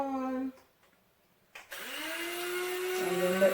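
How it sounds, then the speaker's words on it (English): An electric coffee grinder pulverizing cerasee leaves whirs loudly, stops for about a second of quiet, then starts again with a rising motor hum that keeps running to the end. "let the coffee grinder get all that good stuff"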